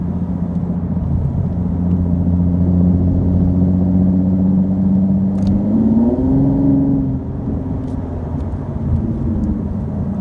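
A Nissan 370Z with a modified exhaust accelerates, heard from inside the cabin with the windows up: a steady loud droning rumble that rises in pitch midway, then eases off.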